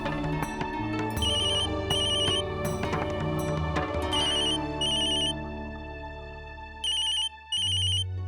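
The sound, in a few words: telephone ringing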